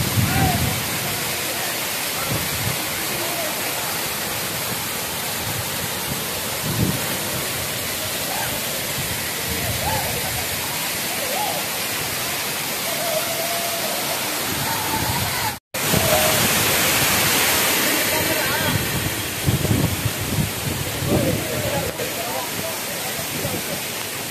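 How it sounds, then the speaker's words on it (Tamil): Jhari Waterfall in Chikmagalur pours down from above in a loud, steady, close rush of falling water that fills the whole scene without letup. "பாருங்கள் தண்ணி எவ்வளோ சூப்பராக மேலேருந்து கொட்டுது"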